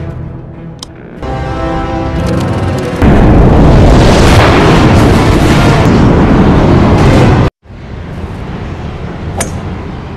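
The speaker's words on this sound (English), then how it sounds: "Jarvis, Dr. Wilkes, and I will man the gamma cannon" A loud, booming blast from a gamma cannon rumbles for several seconds, cuts off abruptly, then lower rumbling continues with a brief sharp crack.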